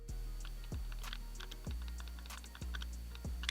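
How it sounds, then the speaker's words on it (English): Bevel and pinion gears click inside an airsoft gearbox fitted with a brushless motor, a few sharp, close mechanical clicks at uneven intervals with a faint background hiss, no talking. "So let's check the bevel to pinion click action."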